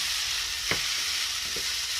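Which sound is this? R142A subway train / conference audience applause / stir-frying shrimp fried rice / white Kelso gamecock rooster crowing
stir-frying shrimp fried rice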